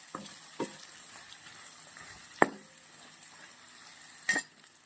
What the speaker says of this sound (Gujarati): મીઠું નાખ્યા પછી આપણે 2 મિનિટ જેવું બટાકાને મસ્ત શેકી લેશું તેલના અંદર